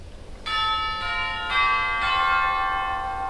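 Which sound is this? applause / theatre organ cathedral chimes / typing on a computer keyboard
theatre organ cathedral chimes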